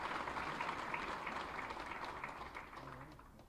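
Audience applause at an official government ceremony welcoming the Uttar Pradesh Chief Minister, a steady, dense wash of clapping from a large crowd that carries on throughout and fades slightly toward the end.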